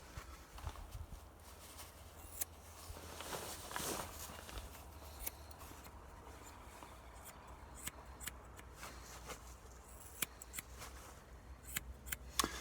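Scissors snip freehand at hair around the ears in a quiet room, faint crisp clicks and short cuts scattered irregularly, close but soft, with light rustling between them.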